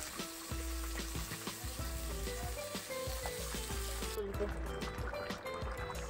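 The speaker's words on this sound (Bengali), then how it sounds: "এখন আর এই মাছগুলো আমি ভাজি করে রাখলাম ভাজি খাওয়ার জন্য" Fish fry in a pan with a steady, close sizzle and crackle, occasional stirring clatter over a constant frying hiss.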